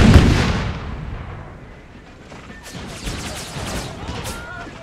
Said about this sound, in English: Ten pounders can open fire.